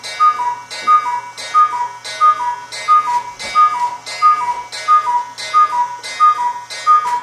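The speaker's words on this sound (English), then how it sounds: "That's the cuckoo clock." A cuckoo clock gives a loud, steady, even tick-tock, with a bright two-tone chime repeating in a regular rhythm and standing alone indoors.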